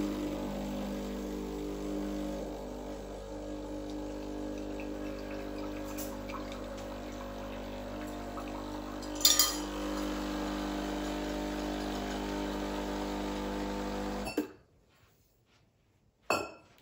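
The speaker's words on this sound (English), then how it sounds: "running the water through the portafilter without any coffee into the cup, and that's going to warm things up pretty quickly" A Breville Barista Express BES870 espresso machine pumps water through an empty portafilter into a cup, a steady mechanical hum with a faint trickle and a couple of small clinks before it cuts off into near silence.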